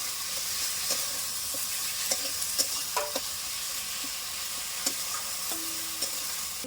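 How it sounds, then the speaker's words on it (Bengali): Grated onion and spices fry in a pan for lau kofta curry, a steady close sizzle broken by a few sharp clicks and scrapes of stirring. "মিডিয়াম সাইজের একটা পেঁয়াজ গ্রেড করা দিয়ে দিচ্ছি ভেজে নেব"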